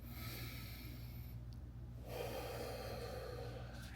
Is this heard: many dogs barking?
no